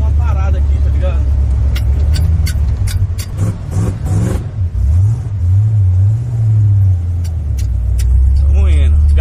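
A car drives along a road in a GTA video game, its engine a steady low rumble that rises and falls as it revs and accelerates, heard beneath continuous talking.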